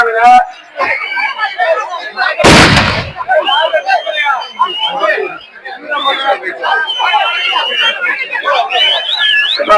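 A single loud firecracker-like bang bursts out amid a crowd's steady chatter and shouting voices at a village bull-running event.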